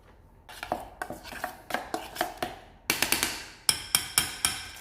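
Wing sauce with corn syrup being stirred in a bowl, a series of sharp clinks and taps of a utensil against the container, irregular at first and then quicker and brighter, close and alone.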